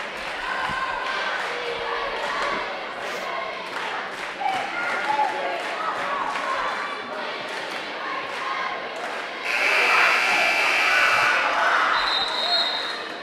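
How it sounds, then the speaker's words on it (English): Crowd murmur in a high school basketball gym, with steady chatter, cheers and a louder swell near the end, basketball bounces and thuds heard under an announcer's talk. "A good crowd on hand here at the Hive."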